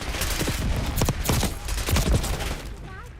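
Bursts of gunfire in a video game during a firefight, sharp repeated volleys spread across a few seconds over a steady background din, with game voices talking in between.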